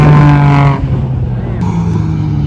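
Nissan Z drift car on a large track at a Gridlife track day, a loud engine roar up close that cuts off into quieter track ambience with distant engines.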